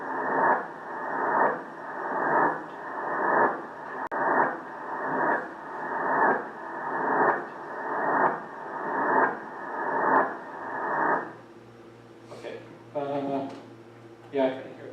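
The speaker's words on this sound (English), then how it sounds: "I'm going to play some simulated noise from even our best possible detectors" Simulated noise from the best possible gravitational-wave detectors: a hiss that swells and fades in regular pulses about once a second, then stops and gives way to a brief voice.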